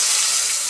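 Ash gourd dropped into hot oil tempered with cumin for a Bengali dalna, giving a steady, close, loud hiss and sizzle that holds evenly for under a second with no voices.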